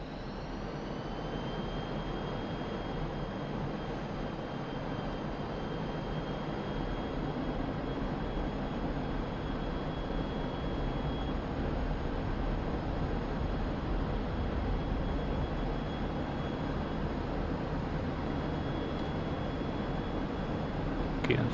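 Jet engines of a MiG-29A in the DCS flight simulator spool up with a steady, loud roar and a high whine that climbs slightly, holding continuously throughout.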